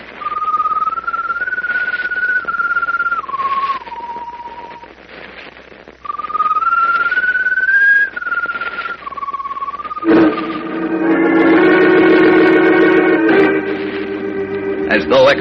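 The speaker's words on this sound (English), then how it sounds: "the strange glowing bird perched on top of the mast whistles mournfully" A strange glowing bird perched atop a ship's mast whistles mournfully in long, wavering, sliding tones, two drawn-out phrases, before a swelling musical sting takes over in a radio drama scene.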